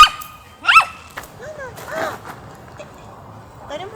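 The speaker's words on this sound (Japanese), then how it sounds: "めちゃめちゃ吠えてます。" A dog at a campsite in the Mount Fuji foothills gives a few short, sharp barks and yips at irregular intervals, close by, over quiet outdoor background.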